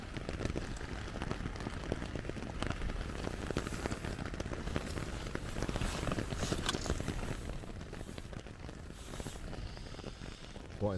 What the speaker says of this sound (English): Storm hit with torrential rain and the winds were gusting through the forest.